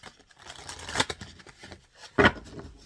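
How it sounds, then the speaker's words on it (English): Soft papery riffling and brushing of tarot cards with a couple of sharper snaps as the deck is shuffled by hand, close and fairly quiet. "Give it a good shuffle."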